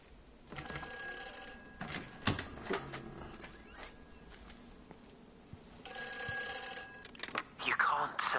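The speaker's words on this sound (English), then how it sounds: "Another phone." An old telephone rings in the game Everybody's Gone to the Rapture, two bursts of bright, shrill ringing with a pause between, while voices talk over the quiet background.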